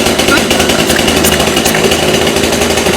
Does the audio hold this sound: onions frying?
no